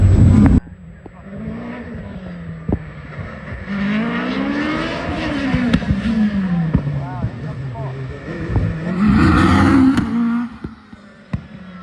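Ferrari race car at a hill climb at Loton Park, a loud near engine note climbing and falling through several revs and gear changes across the run, with crowd sounds and speech over it.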